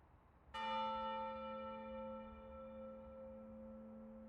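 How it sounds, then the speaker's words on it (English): A church bell in the video game Maquette strikes once, clear and loud, then rings on in a long, slowly fading hum with no voices. "I really expected that bell to ring more than once."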